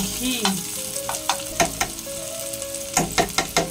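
Ghee fries in a pan with salt added, a steady close sizzle broken by repeated clinks and scrapes of a utensil stirring against the metal.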